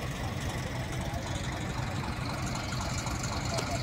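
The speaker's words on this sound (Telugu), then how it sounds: "ఇక్కడ ఓన్లీ ఒక 9 ట్రాక్టర్లు అయితే వర్క్ చేస్తున్నాయి డే అండ్ నైట్." Tractor engines run steadily at a construction site for the Amaravati iconic tower base, a continuous low rumble of idling and working machinery, fairly loud and without any speech.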